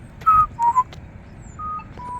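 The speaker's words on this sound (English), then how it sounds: "this one right here will do the whistle" A Polara iD crosswalk push button gives a short series of electronic whistle chirps, a few rising bright tones in quick succession followed by softer sustained beeps, heard up close and alone.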